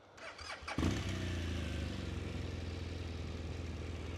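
A 2016 BMW R1200R motorcycle with 21,910 km on it cranks briefly with a whirring starter, then catches and settles into a steady, low, throbbing idle, close and alone.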